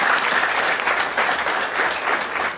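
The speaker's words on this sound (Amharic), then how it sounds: "ከፍ ያለ ጭብጨባውን አጨብጭቡልኝ።" Loud, sustained applause from a large audience at an Ethiopian business training seminar, dense clapping running steadily throughout without any talk.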